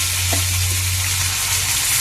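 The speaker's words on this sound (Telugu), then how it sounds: "వేగుతున్నాయి కదా, వేగాలండి, కొంచెం బాగా వేగాలండి." Dried fish fries in hot oil in a pan, a dense, steady sizzle and crackle filling the background at moderate loudness, with a low hum underneath and no talking.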